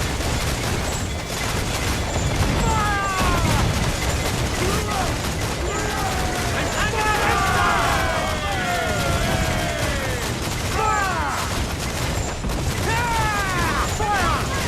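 Naval battle in Assassin's Creed IV, with cannon fire booming from sailing ships over a dense roar of waves and wind, heavy thuds and crashes scattered throughout, while crew voices shout orders over the din.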